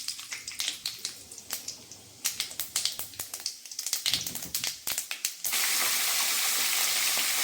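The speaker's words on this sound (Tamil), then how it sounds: "கடுகு பொரிஞ்சதும்" Mustard seeds and fenugreek splutter in hot oil for a Kerala fish curry tempering: rapid sharp pops and crackles close up, then a dense steady hiss takes over.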